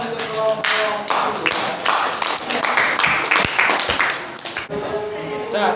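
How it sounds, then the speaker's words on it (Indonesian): Students clap for a group after its classroom presentation, a lively burst of many hands clapping with voices mixed in, ending abruptly. "Tepuk tangan untuk kelompok."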